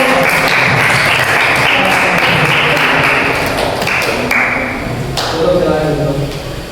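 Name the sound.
applause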